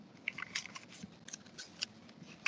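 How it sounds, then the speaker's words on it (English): Tape is pulled and pressed around a cardboard tube holding a lens, giving a string of faint crackles and small ticks at close range with no talking. "I will finish taping it all nicely."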